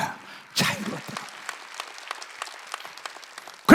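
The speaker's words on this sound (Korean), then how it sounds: "박수치하자." A church congregation at a Wednesday worship service claps briefly in sparse, scattered claps that trail off after a sharp start, with a loud burst returning at the very end.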